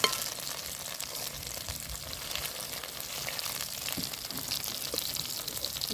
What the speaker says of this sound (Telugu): ఇవైతే మంచిగా ఫ్రై అయ్యాయండి